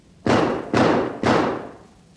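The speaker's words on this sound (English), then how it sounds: "the harp and flute passages are followed by a series of gunshots" Three evenly spaced gunshots boom in quick succession in a 1949 novelty music recording, loud and close with heavy, thudding decays and no voices.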